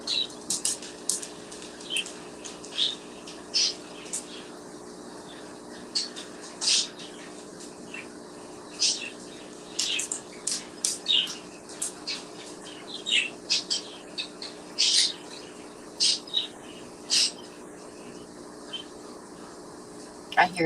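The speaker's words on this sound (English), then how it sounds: "I hear the birds going, chirping, chirping, chirping." Indoor pet birds give a quiet run of short chirps and squawks at irregular intervals over a faint constant hum.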